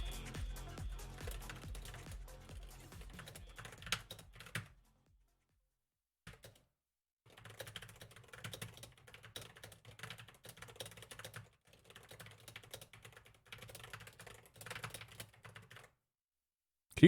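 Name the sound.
typing on a loud computer keyboard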